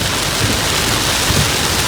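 Heavy rain falls steadily in Phaya Mengrai, Chiang Rai, Thailand, a dense, constant loud hiss of drops with low thunder rumbling underneath throughout, no voices.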